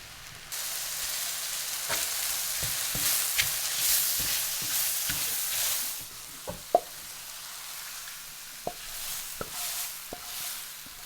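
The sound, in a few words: frying mushrooms and garlic in a pan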